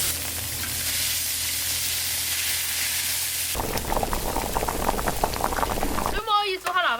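A pot of water boiling on the stove with garlic and konjac, a dense bubbling hiss for the first half that turns into busier, uneven cooking noise, with a voice briefly heard near the end.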